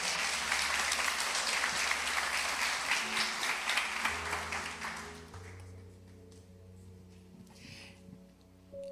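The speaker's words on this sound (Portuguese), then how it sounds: "dar um aplauso para Jesus" A church congregation breaks into sustained applause, loud and dense at first, then thinning out and fading as music chords hold underneath.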